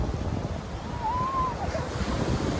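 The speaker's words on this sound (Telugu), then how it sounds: "మనమైతే వాడ్రేవ్ బీచ్ దగ్గర ఉన్నాము" Sea surf washing steadily onto Vodarevu Beach near Chirala, Andhra Pradesh, with wind buffeting the microphone throughout and a faint thin tone drifting briefly in the middle.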